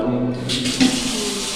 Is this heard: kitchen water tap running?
yes